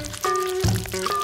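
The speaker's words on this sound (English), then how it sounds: "Pour everything into the bowl." A caramel mixture is poured into a bowl in a brief, close, soft pour with a small splash partway through.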